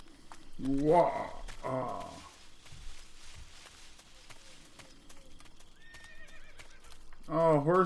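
A horse in the Metal Gear Solid 3 Snake Eater video game whinnies loudly in two bursts near the start and again at the end, with hoof clip-clops and quieter game ambience between.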